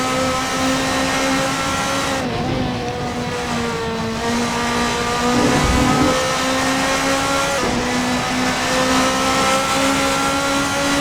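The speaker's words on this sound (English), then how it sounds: "Boy, these Formula Master cars really get around this place." Formula Master open-wheel race cars lap the Imola circuit, their engines holding a steady, high-pitched drone. The whine dips and rises through gear changes and passes as the cars circle the track, with no voices.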